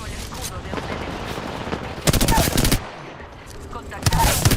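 Video game gunfire: dense bursts of automatic fire in rapid rattling volleys, loud and close, separated by quieter stretches of background battle noise with a voice talking underneath.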